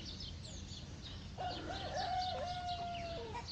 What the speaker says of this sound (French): Donc il y en a plusieurs des coqs.